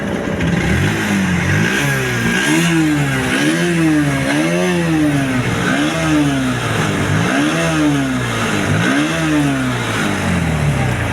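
A Bajaj Pulsar NS 125 BS6 motorcycle engine runs close by and is revved repeatedly, its pitch rising and falling in a series of rhythmic blips over a steady idle.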